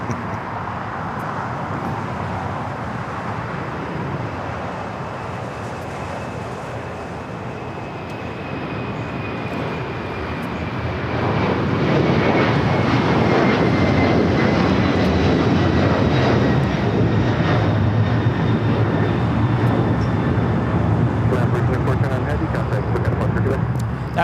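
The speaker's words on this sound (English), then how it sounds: "That is LATAM Airlines 2479 taking off to Lima on the 767-300ER." A LATAM Airlines Boeing 767-300ER takes off from LAX bound for Lima: a steady jet rumble swells into a loud, sustained roar around the midpoint, with people talking underneath.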